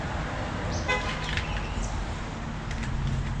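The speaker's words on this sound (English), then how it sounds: "You heard somebody honk, that was him" A brief police chief's car horn toot sounds at a distance over steady traffic and street noise, followed by faint passing vehicle hum.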